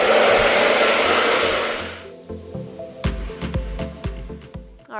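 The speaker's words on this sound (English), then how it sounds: "so I am diffusing my hair" Hair dryer with a diffuser blowing on curly hair, a loud steady airy rush for about two seconds that cuts off, followed by handling clicks and soft knocks.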